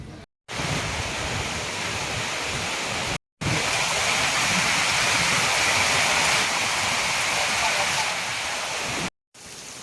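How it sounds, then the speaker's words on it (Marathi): Heavy monsoon rain pours steadily on the way to a temple, a dense continuous hiss and roar that fills the scene at close range, briefly cut off twice. "भरपूर जोरात पाऊस चाललेला आहे"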